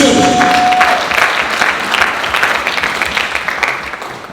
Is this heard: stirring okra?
no